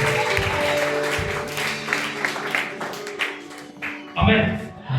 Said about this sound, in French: Acclamons très fort pour le roi de roi.